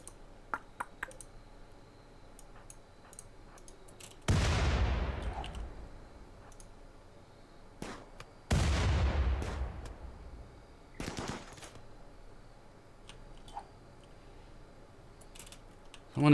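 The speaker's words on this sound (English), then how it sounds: "Blooming Doomsday rocket launcher there." Doomsday rocket launcher fired in Rimworld, two big booming blasts with long decaying rumbles several seconds apart, among scattered clicks and smaller impacts, no talk.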